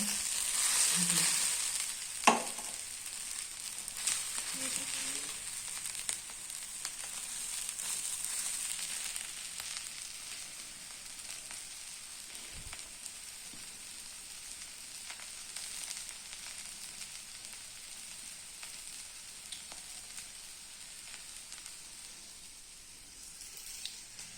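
Amboli rice pancakes roast on an oiled pan with a constant, fairly quiet sizzle and crackle that continues steadily throughout, plus a sharp clink of a utensil near the start.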